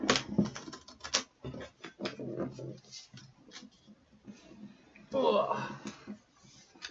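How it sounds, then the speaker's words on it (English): Deck of cards shuffled by hand at a board game night, a run of quick riffling and tapping bursts with short pauses between them, close and fairly quiet, with people chatting in between. "A bit more shuffling."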